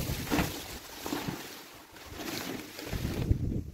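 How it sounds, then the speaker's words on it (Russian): Gusty wind in Astrakhan buffets the microphone in uneven rumbling bursts outdoors by a greenhouse, with a broad rushing noise rising and falling throughout. "И сегодня, как назло, опять ветер."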